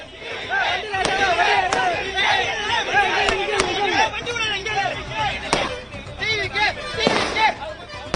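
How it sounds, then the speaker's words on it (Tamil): Supporters at a toll plaza loudly chanting slogans to welcome a campaign vehicle ahead of a state election, a dense crowd roar with rhythmic shouted calls and sharp bangs cutting through. "வாகனத்திற்கு வரவேற்பு அளித்து தொண்டர்கள் முழக்கத்தை எழுப்பி வருகிறார்கள்"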